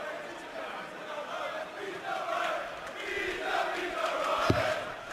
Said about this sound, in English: Crowd loving him.